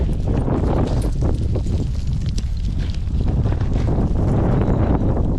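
Strong wind buffets the microphone on a rugged mountain trail up Mount Superior via Cardiff Pass, as a loud, constant low roar from start to finish.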